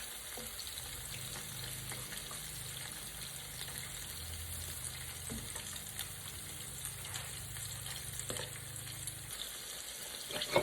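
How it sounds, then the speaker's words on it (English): Shrimp frying in a pan: a steady, even sizzle throughout with a low hum underneath and occasional clicks, fairly quiet and continuous. "this is the second batch I'm frying"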